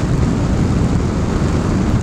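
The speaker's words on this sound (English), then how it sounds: "Blimey, that's windy." Strong wind buffeting a rider on a BMW R1250GS Adventure motorcycle in rainy Welsh weather, a steady, loud low roar of gusting air across the whole stretch with no talk.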